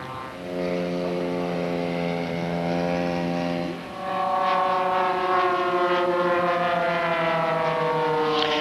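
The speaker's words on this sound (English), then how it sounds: "This is the Zeroli Black Widow, which I believe is a little bit larger airplane." A Zeroli Black Widow model airplane flies at the Top Gun 2000 scale model event, its engine giving a loud, steady buzzing drone that dips briefly and then returns with a shifted pitch.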